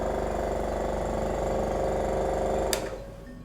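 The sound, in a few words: vacuum pump running on a Buchner funnel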